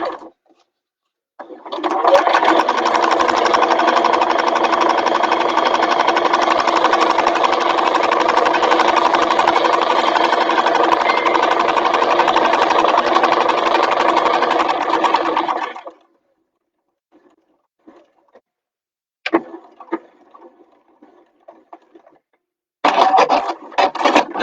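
A Juki F600 sewing machine stitches a bag in one loud, steady whirring run of about fourteen seconds, then stops. Short, quieter bursts of machine noise and handling follow.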